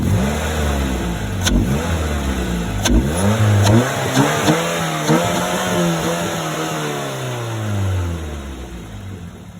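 A 2004-2009 Mazda 3 engine with a CorkSport short ram intake revs hard several times with a throaty intake roar, then settles into a steady, slowly falling drone; loud and close, no talking.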